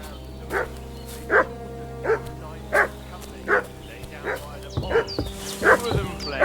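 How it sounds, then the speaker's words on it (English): A dog in the video game Kingdom Come Deliverance 2 barks repeatedly at a steady, fairly close rhythm of about one bark per second, over a low ambient hum, with a few extra yips and rustles near the end. "What's that dog making such a fuss about?"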